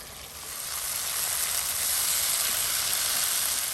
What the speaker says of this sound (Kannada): ರೋಸ್ಟ್ ಮಾಡ್ತಾ ಇದ್ದೀನಿ. ಹಾಗಾಗಿ ಇದನ್ನು ಪೂರ್ತಿಯಾಗಿ ಡ್ರೈ ಮಾಡ್ತೀನಿ.